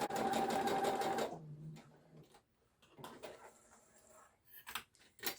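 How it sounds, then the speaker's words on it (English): A sewing machine runs steadily for just over a second, running an easing stitch along the fabric of a Grainline Studio Scout tee. A few quieter clicks and handling sounds follow. "put an easing stitch between those 2 marks"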